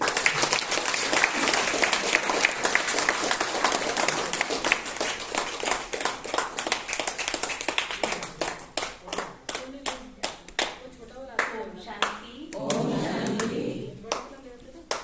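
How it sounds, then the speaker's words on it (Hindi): Clapping from a gathering at a birthday celebration: dense applause at first that thins into scattered individual claps, with voices talking and murmuring through the latter half. "तालियां बजती हैं।"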